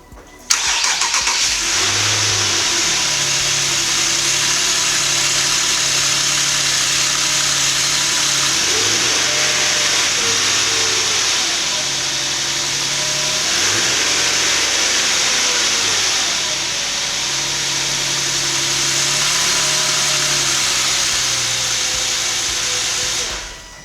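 An Infiniti G37 engine cranks and catches, then runs at a steady mid-pitched idle close by, with a few gentle revs rising and falling midway before settling back to a smooth hum.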